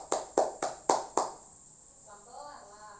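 Classroom applause breaks out as five sharp, evenly spaced claps land in quick rhythm, loud and close, then fade into faint room murmur and a soft voice.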